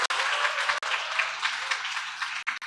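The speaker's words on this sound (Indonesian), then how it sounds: "Saya minta tepuk tangannya terlebih dahulu teman-teman semuanya." Students at a university campus event in Jakarta applaud together, a brisk burst of many hands clapping with brief dips, fairly close and loud.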